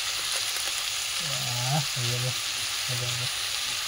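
Steady sizzling from a hot pan as spice masala with coriander powder fries for chicken curry, with a few brief hummed or voiced tones rising over the frying noise.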